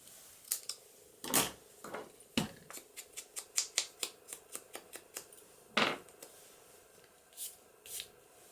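Scissors snip through paper while trimming a piece for an envelope junk journal, giving a quick run of about a dozen close, crisp cuts with a few louder rustles and snips before and after.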